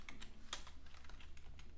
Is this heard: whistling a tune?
no